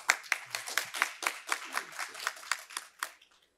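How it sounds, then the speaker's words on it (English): A small audience claps at a forum session for a speaker, a thin, close round of distinct hand claps that tapers off after a few seconds. "Please give him a big round of applause."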